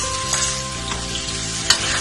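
Onions and tomatoes fry in a pan for menudo, with a loud, steady sizzle and occasional scrapes and clinks as a utensil stirs them.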